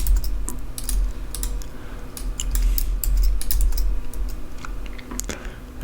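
Rapid clicky keystrokes on a computer keyboard come in uneven bursts, close and clear over a low background hum, with no voice.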